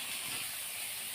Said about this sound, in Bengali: এবার চিংড়ি মাছগুলো দিয়ে দিচ্ছি এর মধ্যে